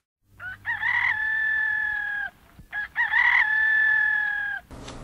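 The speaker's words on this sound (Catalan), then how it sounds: "I el gall va cantar." A rooster crows twice in a row, each call a long, loud, sustained cock-a-doodle-doo rising sharply and holding steady before cutting off, with a brief gap between the two crows and no other sounds around them.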